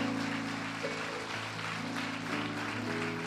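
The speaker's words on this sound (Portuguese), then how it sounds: "Você pode dar uma salva de palmas, agradecendo ao Senhor," A church congregation applauds in a steady wash of clapping over sustained keyboard chords, moderately loud with no voices.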